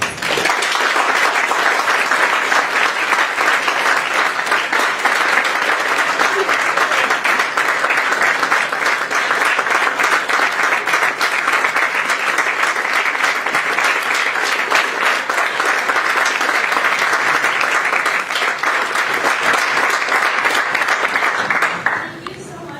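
Sustained audience applause following a lecture in The Last Lecture Series, loud, dense clapping from a large crowd holding steady for over twenty seconds before stopping abruptly.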